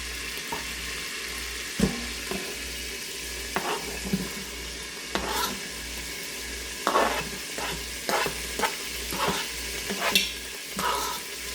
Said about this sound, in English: add an additional tablespoon of oil and the onions.